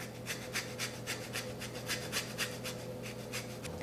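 Orange peel scraped across a kitchen grater, a quick steady series of about a dozen soft rasping strokes, close and quiet with no talking.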